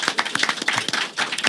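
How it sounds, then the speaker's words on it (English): A small audience claps in a brief, dense burst of applause for a guest, the top official of the NYPD Highway Patrol, at a Lunar New Year roundtable. The sharp hand claps run steadily for under two seconds with no voices. "Give him a round of applause,"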